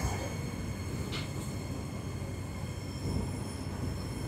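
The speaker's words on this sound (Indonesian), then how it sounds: "Dan habis ini langsung berhenti di stasiun Bogor Paledang." A KA Pangrango passenger train rolls into Bogor Paledang station, with a steady, continuous low rumble of wheels on rails and faint squeals close by, unbroken throughout and no talking.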